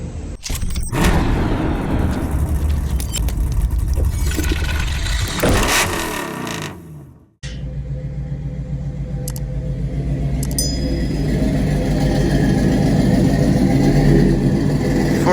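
A supercharged 454 V8 truck with a Turbo 400 transmission and stock rear end drones loudly along a highway at high RPM, a steady heavy engine roar that cuts out briefly midway and then builds again.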